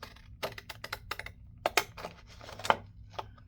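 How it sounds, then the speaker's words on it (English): Scissors snipping through cardstock while cutting out journal page tabs, a series of crisp, close, irregular clicks and short cuts with brief pauses between them. "I wonder if I want to cut it out with scissors like this"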